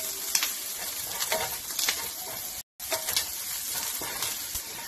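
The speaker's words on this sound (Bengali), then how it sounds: "দেখতে পাচ্ছেন কারি পাতা থেকে কেমন সাউন্ড বেরোচ্ছে" Curry leaves and chili flakes fry in hot oil for Chicken 65, giving a steady close crackling sizzle with sharp pops, briefly cut out by a short gap midway.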